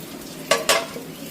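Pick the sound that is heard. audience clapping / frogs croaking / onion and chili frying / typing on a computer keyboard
onion and chili frying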